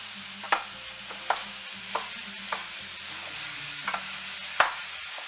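Ground beef browns in a pan with vegetable oil and chopped onions, a steady close sizzle punctuated by sharp spoon scrapes and stirring clatters every second or so.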